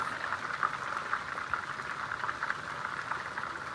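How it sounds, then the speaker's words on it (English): Onions simmering in chicken curry sauce over low heat, a steady soft bubbling and sizzle that holds evenly throughout at moderate closeness, with no talk. "I will allow this to simmer for a few minutes"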